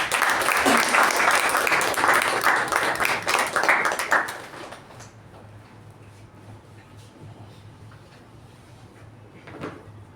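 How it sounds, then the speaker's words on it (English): Loud, dense applause from a Toastmasters club meeting audience, filling the room for about four seconds before cutting off to quiet room tone with a faint stir near the end. "Please welcome the Toastmaster of the day and the treasurer of our club. With a huge round of applause,"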